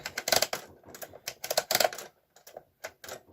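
A knitting machine's punch card is reset, giving close, dry mechanical clicks and rattles in irregular bursts with brief pauses between them and no voices.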